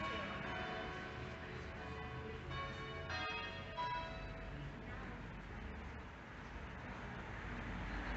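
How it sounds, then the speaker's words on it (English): Church bells ring steadily at a distance at five o'clock in Market Drayton, over an outdoor wash of traffic rumble, with faint voices now and then. "Perfect timing, bells are going."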